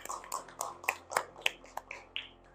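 Classroom students clap their hands in a quick rhythmic pattern, roughly a dozen sharp, close claps in succession, with brief voices mixed in.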